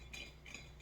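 A spoon stirs an orange type 3 beverage drink in an everyday glass, giving a few faint, quiet clinks of metal against glass, with no talking.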